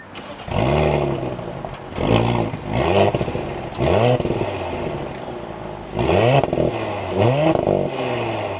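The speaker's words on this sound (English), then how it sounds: "let's start this up and take a listen to that Sport S exhaust" An Audi SQ5 SUV engine with Sport S exhaust starts and revs repeatedly in loud, throaty bursts, each rising and falling in pitch, with brief pauses between blips; close and prominent.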